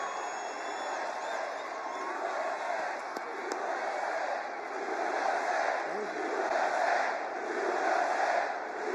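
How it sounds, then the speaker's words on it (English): Excited crowd at a political rally cheering and shouting continuously in a large space, a steady roar of voices with swells of yelling and no clear speech. "the crowd is absolutely charged up."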